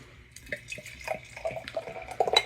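Beer from Strange Roots Experimental Ales, Ancient Vortex, poured into a glass, giving a soft, close splashing and gurgling trickle with faint fizzing that grows a little louder toward the end.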